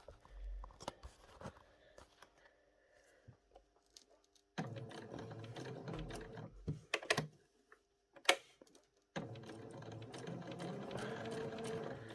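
A sewing machine finishes the last few stitches on a double-layered felt applique number, its rapid motor whir coming in close bursts separated by short pauses and clicks, with no talking.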